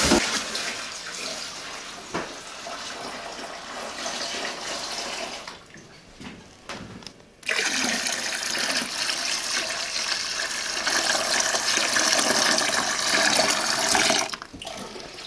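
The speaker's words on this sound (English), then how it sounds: "Just pour in the water here." Water from a tap gushing into a beer brewing vessel, a steady loud pour that briefly drops away near the middle, then resumes strongly and runs on to the end.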